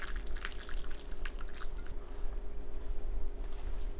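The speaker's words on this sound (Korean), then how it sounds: "뜨거운 상태로 체에 걸러 두부에 바로 부어줍니다." Hot seasoning liquid is strained through a sieve and poured straight over tofu, a steady close splashing and dripping stream that runs loudest in the first two seconds, then thins to a softer trickle over a low background hum.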